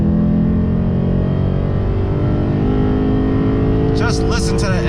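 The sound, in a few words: Lexus RC F engine sound while driving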